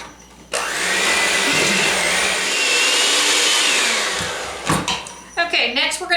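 A stand mixer creams brown and granulated sugar for M&M Christmas cookie dough, a steady loud whir that runs for several seconds, then stops, with a few bumps and clinks afterward.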